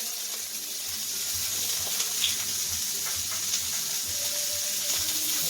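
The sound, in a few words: shallot and garlic sizzling in a pan with steak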